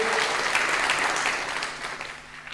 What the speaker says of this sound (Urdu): ایک دفعہ بھرپور تالیاں مات بٹ کے لیے.